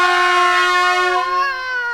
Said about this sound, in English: How about an air horn?